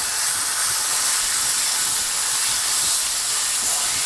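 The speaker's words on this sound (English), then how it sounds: "I'm going straight in with my flat iron steak" A flat iron steak sizzles loudly in a hot cast iron skillet with butter and garlic on a stovetop. The hiss is close and continuous, with no break.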